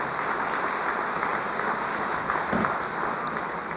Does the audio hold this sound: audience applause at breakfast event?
yes